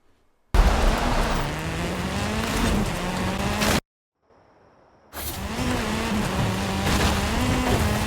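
A Hoonigan Group A rally car in a racing video game drones with a high-revving engine note that rises and shifts, cutting out briefly before resuming at full roar.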